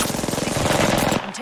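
Rapid automatic gunfire in the shooter game Apex Legends, a loud, dense burst of shots for about a second before cutting off.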